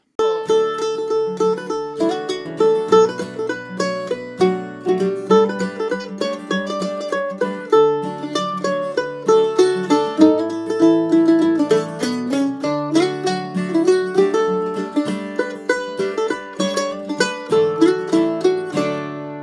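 A mandolin plays the folk melody Whiskey in the Jar with quick plucked notes and chord strums, bright and close, continuous throughout with no voices.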